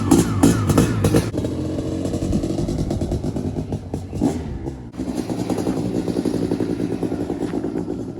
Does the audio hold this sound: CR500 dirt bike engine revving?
yes